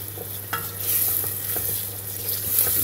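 Onions fry in oil in a pan with a continuous close hiss and sizzle, broken by occasional stirring scrapes, while no one talks.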